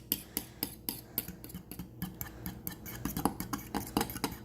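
A fork whisks and stirs slippery elm gruel in a bowl, making quick, steady, faint clicking taps against the side in an even rhythm that runs throughout, with no talking.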